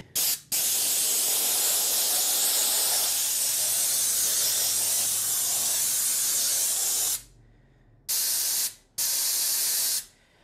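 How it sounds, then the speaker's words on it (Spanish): Compressed air from an Evans 70-litre compressor hissing hard through a connected accessory, a loud, steady close blast for about seven seconds, then three short separate bursts. "Voy a abrir mi llave y ahorita aquí ya tengo aire."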